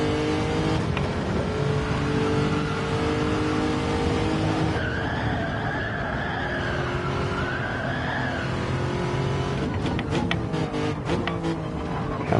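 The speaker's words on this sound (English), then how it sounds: "This car won't even crack 180 down the straight" Race car in Gran Turismo 7 during an online Nations Cup qualifier, the engine droning loudly and continuously, shifting pitch through gears, with tire squeal and skidding near the end.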